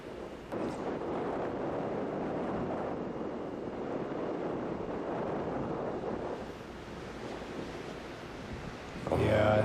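Steady gusting wind on a golf course at the Wyoming Classic 2022 tournament, a broad rushing roar buffeting the microphone for most of the stretch before easing briefly and surging again at the end.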